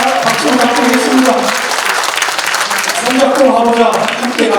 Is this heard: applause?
yes